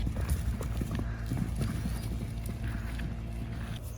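Mules walk into a pasture with horses, their hooves clip-clopping in a steady, close rhythm on the ground over faint background sound.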